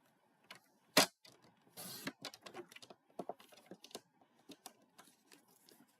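Card stock being trimmed to size with a cutter: a sharp snap, then a run of quiet scraping and a string of small crisp clicks, close and unaccompanied by talk.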